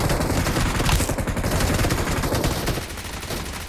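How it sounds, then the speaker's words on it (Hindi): Rapid, dense gunfire in a video game shootout, sustained cover fire with bursts blending into a constant loud crackle for several seconds, with no speech over it. "ऊपर से इसका बंदा कवर फायर दे रहा होता है।"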